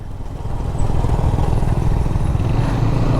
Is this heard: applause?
no